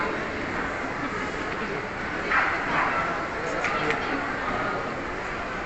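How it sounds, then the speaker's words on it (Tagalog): A dog barks angrily in a busy shopping mall, short yaps standing out briefly over steady crowd noise and nearby chatter. "Galit na galit, ang cute ng aso."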